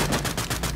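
Rapid automatic gunfire in the video game Sausage Man, a loud burst of evenly spaced shots firing about eight times a second with no voices.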